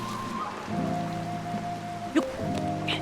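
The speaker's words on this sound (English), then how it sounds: "Oh no, not the rain." Rain falls steadily in The Legend of Zelda: Tears of the Kingdom, a soft even patter under sustained game music tones, with one brief knock partway through.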